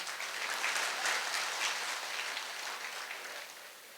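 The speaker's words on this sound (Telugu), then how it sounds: "చప్పట్లు చెప్పండి అయ్యా" Steady audience applause, broad and dense clapping throughout, fading slightly toward the end with no voices.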